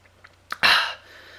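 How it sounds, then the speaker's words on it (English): A person with an irritated throat gives one sharp, loud cough, preceded by a few faint throat clicks and a short catch of breath, followed by quiet room tone. "my throat is causing me to cough"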